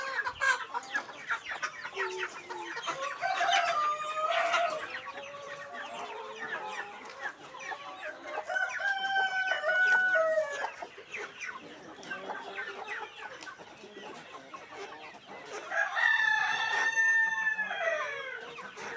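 Aseel and Peruvidai chickens at a chick-selling farm, with steady clucking throughout and several loud roosters crowing in long calls, close by and without voices.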